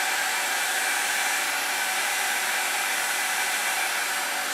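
A hair dryer blows hair dry with a steady, loud, unbroken whoosh of air that runs the whole time at close range, with no talking.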